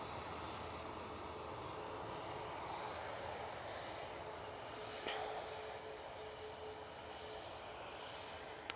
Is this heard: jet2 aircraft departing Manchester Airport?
yes